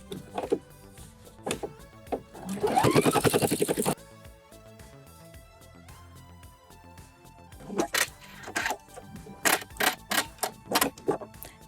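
A home sewing machine stitching the top row of a flat felled seam on the right side of the fabric, with a dense rapid whirring burst of stitching, then quieter handling clicks and short mechanical taps, no speech.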